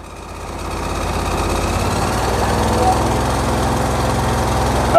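A John Deere 125 automatic lawn tractor engine idles close by, a steady chugging drone that grows slightly louder as the idle is raised.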